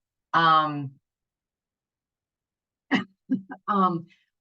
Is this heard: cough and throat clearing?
yes